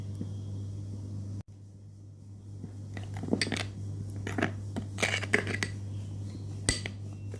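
Cucumber peel face pack paste being mixed in a bowl, giving intermittent light clinks and scrapes of a spoon against the bowl, close and fairly soft over a steady low hum.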